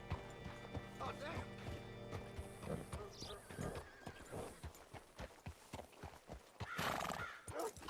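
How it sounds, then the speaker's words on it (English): Horse hooves clip-clop steadily with a loud whinny near the end, over background music and ambient game sounds in Red Dead Redemption 2. "Hitch your horse up here."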